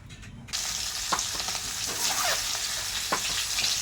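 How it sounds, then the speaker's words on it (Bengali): Eggs hit hot oil in a wok with a sudden jump into loud, continuous sizzling, with scattered scrapes and clinks of a utensil over the crackle. "এপাশে আমি তেল ভেজে ডিম দিয়ে দেবো তেলেতে।"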